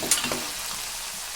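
Dal poured into a hot frying pan with soybean and salt, giving a steady hiss of frying and sizzling with faint stirring clatter near the start, heard up close with no talking.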